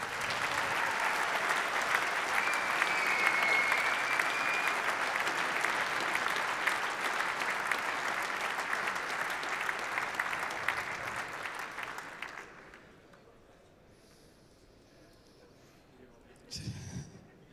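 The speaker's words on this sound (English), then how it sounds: "so let's not let him leave without one more round of applause" A squash audience applauds at a quarterfinal match, dense clapping held steady and loud for about twelve seconds before stopping abruptly, then faint room noise with a brief burst at the end.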